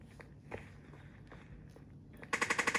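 A rare gun fires in a zombie shooter video game, with a rapid burst of about eight evenly spaced shots near the end following quieter thuds and footsteps.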